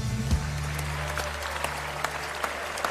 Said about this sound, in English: Please join us in a round of applause for 2019 inductee,